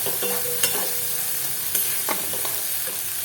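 Spice paste being stir-fried in oil for a prawn malai curry, with a steady loud sizzle and frying hiss and occasional scrapes and taps from stirring, close up and with no voices.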